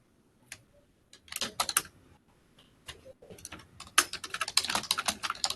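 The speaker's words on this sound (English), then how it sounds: "you're typing so loud." Keys clatter on a computer keyboard in an office, starting with sparse taps and building into fast, dense bursts of typing that sound close and crisp, with no talking.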